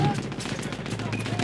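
Rapid bursts of gunfire in a multiplayer shooter video game, dense and continuous over a short span, with a voice shouting over it.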